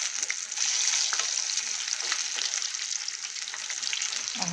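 Cauliflower frying in hot oil after being turned, a dense, loud, continuous crackling sizzle with fine popping throughout, close and unbroken, no talk.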